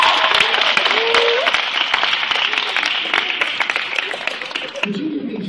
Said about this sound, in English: All right, give him a big round of applause for Prom.